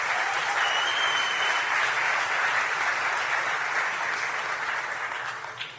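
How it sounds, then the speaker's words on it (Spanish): Audience in a hall breaks into steady, dense applause that holds for several seconds before tapering off at the end. "Yo creo que nos merecemos un aplauso por eso,"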